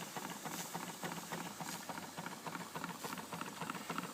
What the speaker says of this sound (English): We'll listen to the engine for a minute.